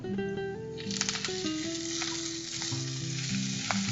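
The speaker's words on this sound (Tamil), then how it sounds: "வெங்காயம் நல்லா டீப்பா ஃப்ரை பண்ணதுக்கு அப்புறமா இஞ்சி பூண்டு விழுது சேர்க்கிறாங்க" Ginger garlic paste fries with deeply browned onions for kaima idli, giving a steady sizzle under a loud background of music.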